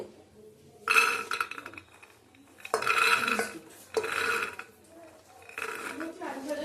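Soaked dried peas for ghugni are tipped into a metal pot in a home kitchen, giving a few bursts of clattering, clinking pours between quieter pauses, close and moderately loud.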